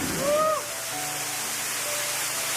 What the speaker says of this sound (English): I mean, it's not just one waterfall